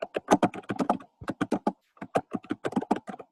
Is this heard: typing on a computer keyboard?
yes